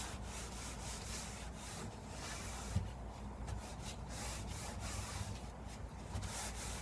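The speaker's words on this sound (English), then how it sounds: "I'm just going to rub a little bit on the other board." A rag rubs color wash along knotty pine boards with the grain, giving a steady, close, soft scrubbing hiss with faint wooden knocks.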